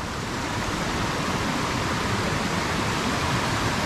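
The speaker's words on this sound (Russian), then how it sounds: "Чистейшая вода реки Хастабаш" The Khastabash river near Yalta flows steadily and close by, rushing water with a dense even hiss, no pauses or voices.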